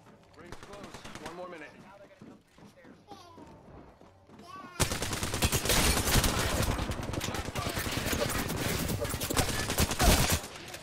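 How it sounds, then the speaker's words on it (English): Sustained automatic gunfire in the video game Apex Legends bursts in halfway through, a dense, loud fusillade that follows a quieter stretch of in-game sounds and a voice. "Opening fire."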